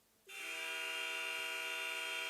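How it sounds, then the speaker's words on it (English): A loud, sustained arena shot clock buzzer blares suddenly and holds steady, bright and harsh, with no talking. "We got shot clock and final buzzer."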